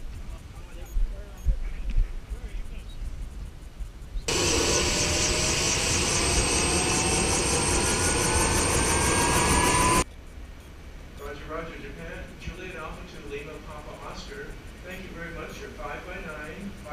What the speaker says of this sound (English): here's the last helicopter in to take the last three of us off.